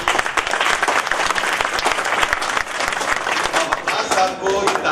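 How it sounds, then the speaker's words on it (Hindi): Dense, sustained applause from an audience in a hall greeting Waqas Sahab, steady clapping filling the whole stretch with crowd noise and a voice faintly talking over it. "वक़ास साहब के लिए बहुत सारी तालियां।"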